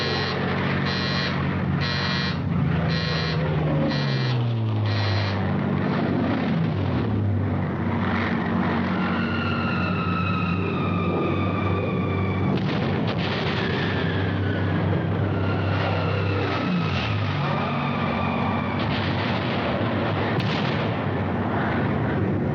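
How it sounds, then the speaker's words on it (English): Carrier-based US Navy planes of the Pacific Fleet roar overhead amid heavy anti-aircraft fire, a dense continuous wall of engine drone with descending pitch sweeps as aircraft pass and dive, punctuated by rapid bursts of gunfire. "Suddenly, overhead appear the carrier-based planes of the United States Pacific Fleet"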